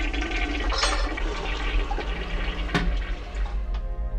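Toilet flushing with a loud rushing gush of water, followed by swirling and refilling sounds that continue steadily throughout.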